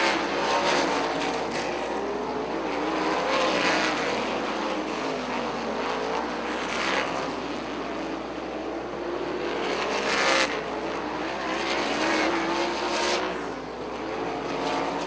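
Sprint cars roar around the Rockford track during a 50-lap Xtream Sprints feature, a dense, continuous engine howl with pitch swells as cars pass through lap traffic, loud and steady throughout.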